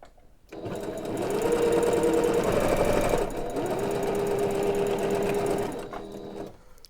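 Domestic sewing machine with a size 12 needle stitching pajama fabric, running in two steady motor bursts of about three seconds each with a brief dip between, close and fairly loud with no talk.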